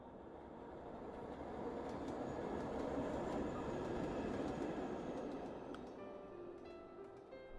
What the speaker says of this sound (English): I could hear the sound of the train accompanied with faint vibrations.